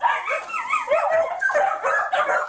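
A dog yips and barks in quick, high-pitched bursts mixed with whiny vocalizations, close and continuous for a couple of seconds.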